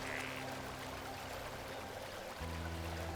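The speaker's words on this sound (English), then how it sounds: "Or just river flowing downward." Steady rushing of river water flowing downhill in the video game Xenoblade Chronicles Definitive Edition, a continuous broadband wash that stays even throughout, with a low droning tone entering near the end.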